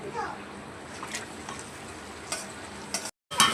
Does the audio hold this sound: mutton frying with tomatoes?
yes